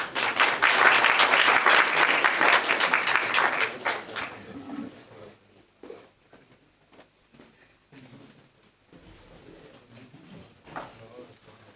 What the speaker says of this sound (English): A round of applause now.